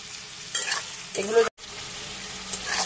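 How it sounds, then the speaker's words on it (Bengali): Chopped onions frying in mustard oil in a wok, a moderate sizzle with bursts of stirring and scraping, a brief clunk and a momentary cut-out midway, no talking. "কড়ার মধ্যে সর্ষের তেলটা গরম হলে পেঁয়াজ কুচিগুলোকে ভেজে নেব।"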